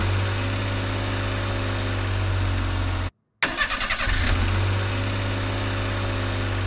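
Continuous mid-pitched car engine drone from a multiplayer racing game, steady and loud, broken by a brief silent gap as the car is switched, then a short revving burst before the engine settles back into an even hum.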